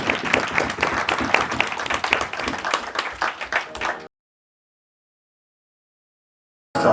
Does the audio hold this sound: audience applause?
yes